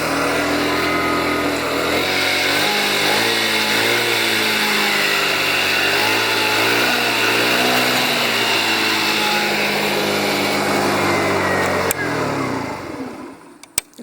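A TaoTao ATM50-A1 scooter engine idling steadily as it warms up, a continuous buzzy drone with slight wavering in pitch, close and loud, dropping away near the end.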